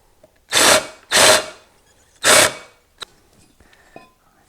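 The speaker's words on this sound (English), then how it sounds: "we'll just take our time and drill this down to the depth" A power drill bores into a part during an Oldsmobile 455 serpentine belt conversion, running in three loud bursts of about half a second each, followed by faint clicks and tool handling.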